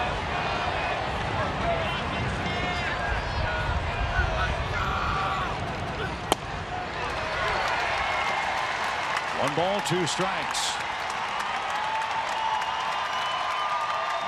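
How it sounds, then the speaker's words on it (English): Sustained crowd noise at a Cardinals vs Giants baseball game at Oracle Park, a broad wash of cheering and applause swelling and holding, with a commentator's voice over it. "listen to the crowd at Oracle Park"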